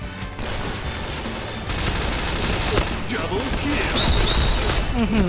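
Rapid bursts of video game gunfire rattle continuously at close range, loud and dense, with scattered electronic chirps and effects layered over the shooting.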